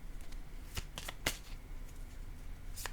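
Playing cards are handled and shuffled close by, with a few short, crisp riffling bursts against quiet background.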